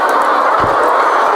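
Laying hens crowd a poultry farm's laying section, producing a loud, continuous wash of clucking and chatter from many birds at close range with no voices.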